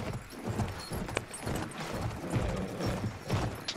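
A horse galloping in the video game Battlefield 1, steady rapid clip-clop hoofbeats close and continuous under gameplay noise.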